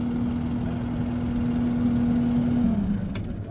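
A 2021 skid loader sits idling at an auction with a steady, quiet engine hum and a constant low tone. The hum dips slightly near the end, and no one talks over it.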